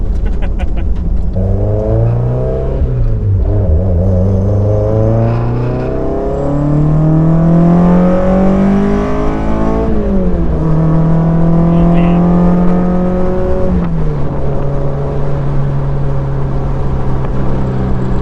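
A modified Mazda Miata engine with individual throttle bodies revs repeatedly, pitch climbing and dropping through several loud surges, with a steady idle rumble between; a voice murmurs faintly underneath.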